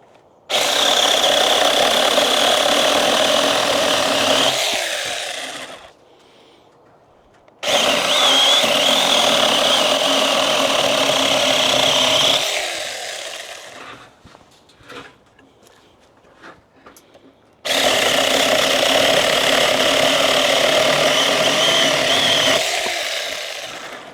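A cheap 6-inch mini chainsaw runs loud and close, whining steadily in three long bursts with brief drops to a lower idle between them, cutting small logs for firewood.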